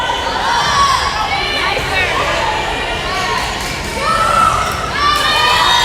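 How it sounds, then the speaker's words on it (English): Crowd cheering and shouting at a girls' varsity high school volleyball match in a gym, Skidmore-Tynan Lady Cats against Refugio Lady Cats, with steady young voices swelling in two bursts and faint thuds beneath. "Got a little cheering section for the Lady Cats."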